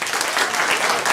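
The audience at an improv comedy show at Arcade Comedy Theater breaks into a brief burst of dense, lively applause.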